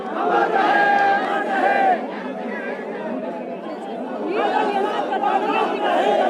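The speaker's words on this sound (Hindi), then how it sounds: "भीड़ को जो है काबू करना काफ़ी मुश्किल यहाँ पर हो रहा है" A large, dense crowd chatters and calls out at the funeral procession of former chief minister Raja Virbhadra in Baman, a steady roar of many overlapping voices that swells, dips briefly, then rises again.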